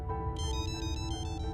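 A mobile phone ringtone plays a bright repeating electronic melody of short pulsed tones over a low background hum, steady and close with no talking.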